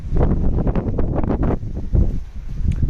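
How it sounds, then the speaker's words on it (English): Gusty wind buffeting the microphone in loud low rumbles, rising and easing over a few seconds, with no talking. "It is windy though."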